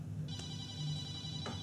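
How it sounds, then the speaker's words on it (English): A telephone rings indoors in a quiet room, a steady electronic ringtone sounding alone at moderate volume over a low background hum. "The phone call was from my neurosurgeon's office setting up a Zoom appointment."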